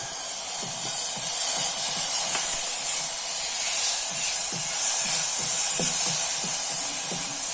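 Tomatoes sauté in a hot pan for pumpkin soup, giving a steady, dense hiss of sizzling with scattered soft scrapes and taps of stirring throughout.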